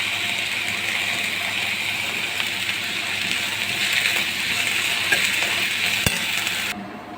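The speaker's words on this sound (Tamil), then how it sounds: "பிறகு முருங்கைக்கீரை போட்டு வதக்குங்க." Drumstick leaves sauté with onion and green chili in a pan, giving a steady close sizzle with occasional stirring scrapes and one sharp clink near the end, and no talking.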